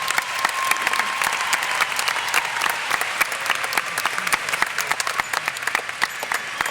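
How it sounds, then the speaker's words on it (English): An audience applauds graduates at the Belton High School commencement ceremony, with dense, steady clapping from a large crowd sustained throughout at an even level. "let's give our graduates a hand of applause"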